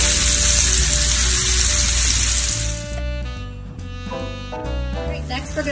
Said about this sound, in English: Now we're gonna go ahead and place our onions into the same oil, and we're gonna saute these into the oil.